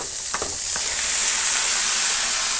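Drumstick leaves and onion sizzle steadily in a hot pan while being stirred, a close, continuous frying hiss with a few light scraping clinks of the spoon early on.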